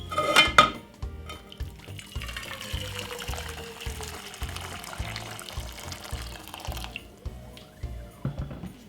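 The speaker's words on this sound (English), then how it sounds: "all I'm going to simply do, yeah, is put 2 cups of boiling water." Boiling water pours steadily into a metal pot for several seconds, a thin trickling stream with a clank of cookware at the start and end.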